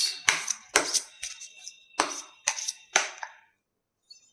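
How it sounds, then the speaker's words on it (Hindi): A deck of tarot cards is shuffled in a string of about seven sharp, papery riffle bursts, irregularly spaced and close, before falling quiet. "so we shuffling the cards"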